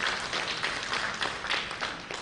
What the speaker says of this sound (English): Allow me to request you to give them a hearty clap, the team that is steering this.